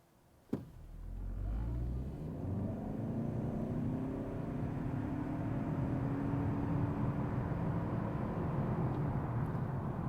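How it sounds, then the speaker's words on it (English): A 2025 Toyota Camry XSE launches from a stop to 60 mph, an abrupt start followed by a steady, rising engine and road drone heard from inside the cabin, moderately loud and continuous. "Let's do a quick 0 to 60."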